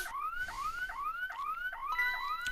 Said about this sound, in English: Oh dear! The alarm.